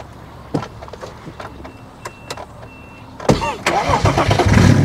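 A stage 3 single-turbo BMW 335d diesel producing 500 horsepower cranks with a few faint clicks, then fires up into a loud, rough idle close by.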